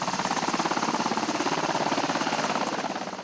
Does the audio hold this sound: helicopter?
yes